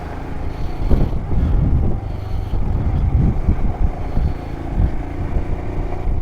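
Wind buffets the microphone during a Himalayan highway motorcycle ride near Siliguri, a steady low rumbling roar with gusty, uneven bursts underneath the engine noise, no talking.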